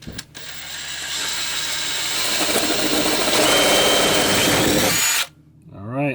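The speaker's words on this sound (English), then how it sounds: "Or maybe with the drill." A power drill bores a hole through the wall of an RV during an inverter/charger upgrade, running loud and steady for about five seconds up close, then stopping abruptly before a brief voice.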